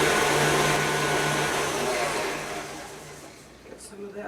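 An electric mixer whirs through chocolate zucchini cake batter, a loud, steady motor drone that fades down midway and then falls quiet, with a voice briefly heard near the end.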